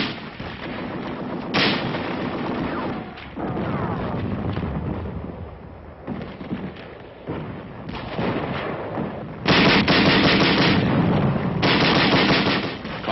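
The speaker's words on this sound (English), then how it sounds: "Tanks and Bren guns giving supporting fire." Tanks and Bren light machine guns give supporting fire during a 1944 WWII canal crossing near Boxtel in the Netherlands: dense, sustained bursts of automatic gunfire and heavy booms, surging loud in waves with short lulls, no talk.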